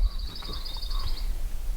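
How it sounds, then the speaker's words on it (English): Faint bird calls on a mountain trail in a North Carolina state park, a few high thin notes at a distance over soft wind and ambient noise. "you can hear the birds on this side."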